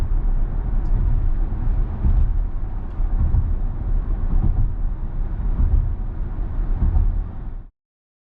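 Steady roar of road traffic heard from inside a Tesla driving into Bayside, Queens, New York, a continuous broad rumble of many passing cars with gentle swells, cutting off abruptly at the end.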